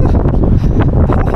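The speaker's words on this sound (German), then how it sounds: "Wieder Windzug." Wind gusting across a handheld microphone outdoors on a cool, breezy day in Hamburg, a steady low rumbling buffet with brief flutters, loud and close, with no talking.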